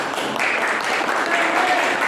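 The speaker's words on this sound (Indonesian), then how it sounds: "Bagus, tepuk tangan dulu Wak." A short burst of steady group applause from an audience at a gathering, a dense even patter of clapping lasting about two seconds.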